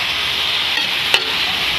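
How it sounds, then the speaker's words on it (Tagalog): Pork cubes and bitter gourd being stirred in a pan while sautéing, with a steady sizzle throughout and one brief louder scrape of the utensil against the pan near the end. "Halu-haluin lang natin."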